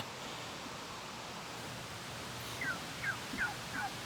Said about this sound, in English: There's the turkeys are out this morning, wandering out.